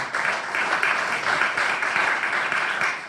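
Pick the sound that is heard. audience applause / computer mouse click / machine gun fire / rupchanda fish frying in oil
audience applause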